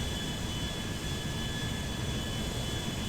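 In GTA 5, a Concorde jet airliner flies with a steady, loud, broadband jet engine roar. The rumble continues without a break and no one speaks.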